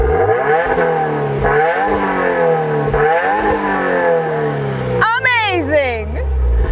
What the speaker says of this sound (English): when you have a vehicle equipped with a quad exhaust system, there's only one feature you begin with